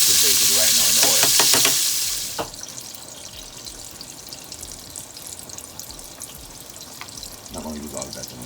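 Ham cured with brown sugar frying in hot oil as the sugar caramelizes: a loud, bright sizzle fills the first two seconds, then drops to a faint simmer with scattered utensil clinks.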